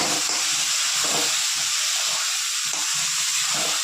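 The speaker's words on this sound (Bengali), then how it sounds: "এবার দিয়ে দেবো আদা, পেঁয়াজ, রসুন, টমেটো আর কাঁচা লঙ্কার পেস্ট।" A paste of ginger, onion, garlic, tomato and green chilli hisses and sizzles in a hot pan of fried spices, a loud, steady, close frying hiss with gentle pulsing bursts.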